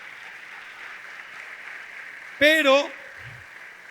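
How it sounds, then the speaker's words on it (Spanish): A church congregation applauds in praise to the Lord, a faint, steady patter of clapping in the background. A voice briefly speaks over it. "Dale un aplauso al Señor."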